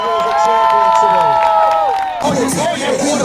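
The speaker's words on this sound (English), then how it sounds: "Clap it up for every single one." Crowd at a Pioneer League football championship celebration claps and cheers loudly and steadily, with shouting voices and whoops rising over the continuous clatter of applause.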